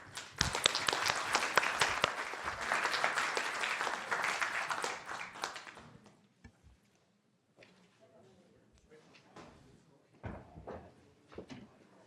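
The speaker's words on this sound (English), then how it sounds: "Let's give a round of applause to our distinguished speakers." A conference audience applauds the speakers at the end of a panel session, a loud burst of dense clapping for about six seconds that thins to scattered claps and room noise.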